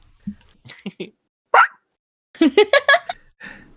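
A person imitates a dog barking: a few short yaps, a louder bark, then a quick burst of several barks and a softer final yelp, with gaps of silence between.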